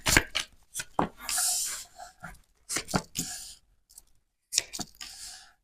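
Tarot cards being shuffled for a Pisces love reading, a close, papery riffling and slapping in several short bursts separated by brief pauses.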